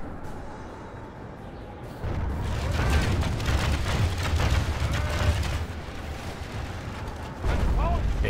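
Cannon fire rumbles in a battle video game set in Hesse, heavy booms rolling together in a loud continuous barrage, with someone talking over it.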